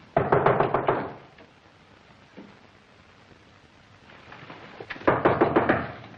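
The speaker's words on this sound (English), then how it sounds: "When you come to my room, knock like this." In a 1940 film, a rapid series of knocks on a door, then a long quiet pause with a faint tap, then another quick run of knocks.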